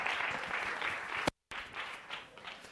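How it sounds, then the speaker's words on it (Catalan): A seated audience applauds at a geometry teaching talk, a moderate, dense patter of clapping that briefly cuts out before resuming. "Un aplaudiment per la presa."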